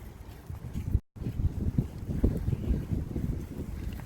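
Gusty outdoor wind buffets the microphone with a steady low rumble and rises and falls in strength while a breakfast burrito filling of scrambled eggs cooks in cast iron, with one abrupt brief dropout.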